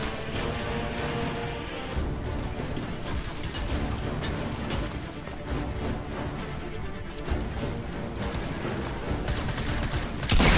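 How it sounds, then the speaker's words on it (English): Submachine gun fire in the Fortnite video game, a dense, continuous clatter of shots and crashing game effects running through the whole stretch at steady loudness, with no one talking. "I hate the submachine gun, dude."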